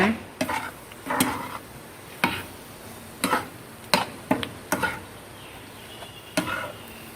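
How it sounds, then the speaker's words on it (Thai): Candied mango and plums being stirred through sticky boiling syrup in a pan, heard as repeated soft scraping strokes at an irregular rhythm over a quiet bubbling background, close and moderately loud. "เสร็จแล้วเราเอามะม่วงหามะนาวโหรสบ้วยของเรานะคะ ลงไปคลุกเลยค่ะ คลุกมันก็จะเหนียวเหนียวแบบนี้นะคะ"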